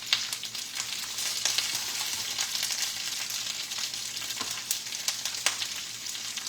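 Chopped onions sizzle and fry steadily in a hot pan with oil, a continuous close, bright crackling hiss with small pops and occasional stirring, no voices.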